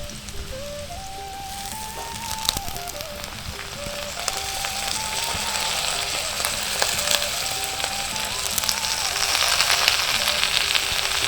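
Pui shak greens hit a hot pan with a strong, steady sizzle that grows a little louder over time, close up and with no talking over it.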